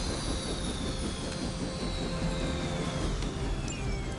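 A helicopter goes down in the Marvel Midnight Suns video game as a broad, steady engine roar with a whining tone gliding downward, loud and continuous throughout, with no talk.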